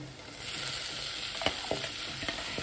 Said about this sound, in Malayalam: അപ്പോൾ അതിട്ടിട്ട് നന്നായിട്ട് വഴറ്റിയെടുക്കുക.